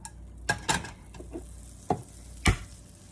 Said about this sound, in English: So our butter is now melted, so I'm going to ring it around, making sure that it coats the entire bottom